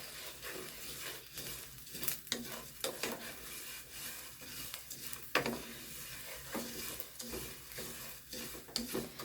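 Rice frying in a pan while being stirred constantly for Spanish rice: a low, steady sizzle with scattered scrapes and light taps of the spoon, faint and continuous throughout with no talking.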